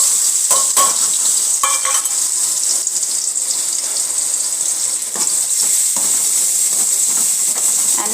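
Cumin, asafoetida, chopped chilli and ginger fry in hot oil with a loud, steady, close hiss, broken by a few brief pops and stirring scrapes.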